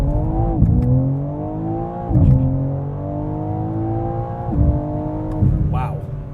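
A 2024 BMW M4 CS with a 3-liter twin-turbo inline six launches hard with launch control, the engine climbing loudly through several upshifts, each marked by a brief drop in revs before pulling again.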